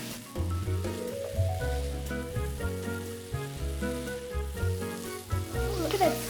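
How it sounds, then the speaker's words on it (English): Chorizo and potatoes sizzle and fry steadily in a hot pan, with tonal background music playing throughout. "Look at that sizzle."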